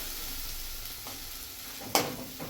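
Cooked rice is stirred in a hot pan for Schezwan rice, with a steady sizzling fry underneath and a sharp scrape or clatter of the spoon near the end, close and without speech.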